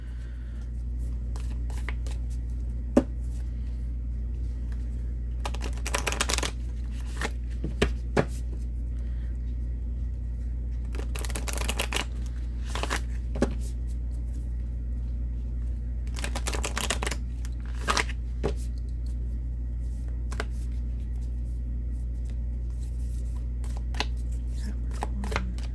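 Oracle cards from an archetype deck are shuffled in several short, crisp riffling bursts, close and fairly loud over a steady low hum, with quiet pauses between them.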